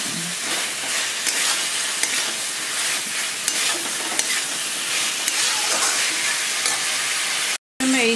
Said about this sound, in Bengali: এবার আমি এই পকোড়াগুলো দিয়ে দিচ্ছি